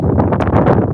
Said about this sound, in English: Well, it's a little windy.